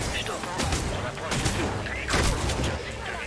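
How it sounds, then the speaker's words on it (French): Gunfire in the video game Redfall: a few scattered shots and thumps, fairly close, mixed into the game's ambient noise. "Je crois qu'on me tire dessus, je crois."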